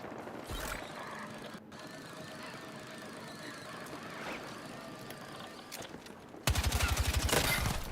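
Gunfire in a Battlefield video game comes as scattered distant shots and mechanical squeals, then a loud, rapid burst of automatic fire close up at the end.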